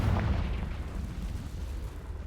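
A Confringo fire spell explodes in Hogwarts Legacy, a heavy, booming blast with a deep rumbling low end that sustains and slowly fades.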